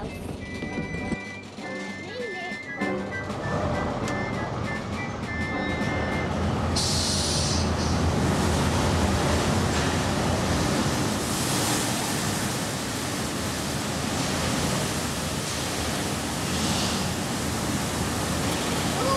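A bus goes through a car wash while water sprays and hisses against it in a loud, continuous, surf-like rush. A swell of brushing swishes comes partway through, and a short stretch of lighter sounds is heard before the spray builds.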